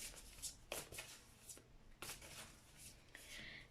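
Tarot cards being shuffled and drawn: soft papery riffles and slides come in short bursts over a quiet room hiss.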